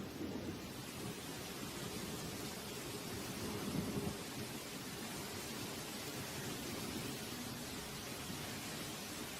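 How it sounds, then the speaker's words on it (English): Heavy rain pouring down in a tropical forest during a storm, a dense, steady hiss with a low rumble of thunder swelling briefly midway, no voices. "The rain starts pouring down, like a harsh welcome to the real world."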